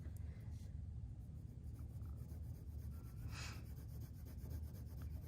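Faint, soft scratching of colored pencil shading across paper, a quiet continuous rubbing with small strokes, close up and alone with low background hum.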